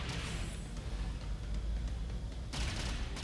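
Enemy gunfire fills a level of the mobile game Metal Slug Awakening in the Underwater City stage, a dense, continuous barrage of rapid shots with a sharp burst near the end, fairly loud and without talk.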